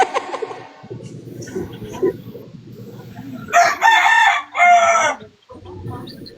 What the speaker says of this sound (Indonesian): Lu mendingan ayam lu dinaboboin dulu dah, sumpah berisik anjir